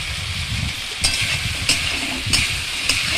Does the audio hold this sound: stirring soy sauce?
yes